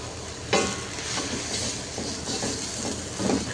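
Loud sizzling and crackling of river fish frying in hot oil in a wok, with bursts of spattering and occasional stirring scrapes.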